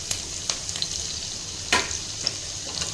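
Chopped green chilli, ginger and garlic sizzle in hot oil in a pan for chilli chicken while being stirred, with a steady close hiss broken by a few light scraping strokes.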